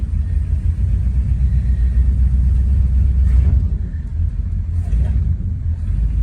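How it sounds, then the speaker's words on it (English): Deep, loud engine and drivetrain rumble from a 1971 Chevrolet Suburban pulling away in first gear with a slipping transmission, swelling briefly as it strains to catch the gear. "It was slipping a little bit there, but it was almost like it was just kind of slipping as it was trying to catch a gear"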